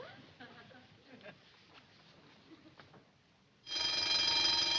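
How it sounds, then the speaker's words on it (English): A telephone rings indoors behind a door, starting abruptly near the end as a loud, steady electronic bell tone after a stretch of quieter background noise and faint voices. "the phone's ringing in there"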